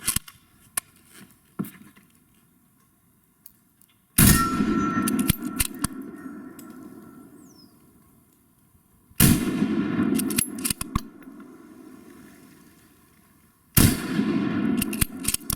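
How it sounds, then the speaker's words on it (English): A modernized late-war K98k rifle fitted with a micro red dot fires three loud shots outdoors, each a sharp blast with a long ringing decay, spaced several seconds apart with quieter handling sounds in between. "now we'll give our abomination of a K98k with the micro red dot on it a few shots downrange and see how it does"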